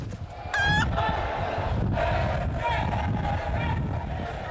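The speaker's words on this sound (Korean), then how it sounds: "필리핀의 닭싸움." Roosters at a Philippine cockfight crow and cluck amid a loud, noisy crowd, with two or three crows rising over the constant murmur of people.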